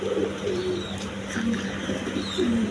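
A pair of pigeons, a male and a female, coo close by in repeated soft, low, throaty calls over a steady background hiss.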